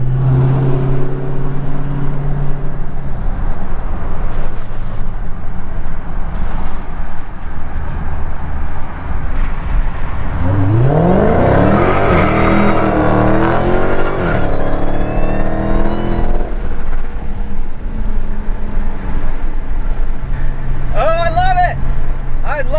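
A Dodge Hellcat with a JLT cold air intake, driving under an overpass: a loud engine drone, then a rising, swelling supercharger whine under acceleration, with people talking throughout.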